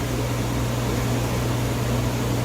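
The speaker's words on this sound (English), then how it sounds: "Air conditioner's on. Microwave is on." Inside a camper travel trailer, a rooftop air conditioner and a microwave oven run together as a steady, fairly quiet mechanical hum and airy hiss, unchanging throughout.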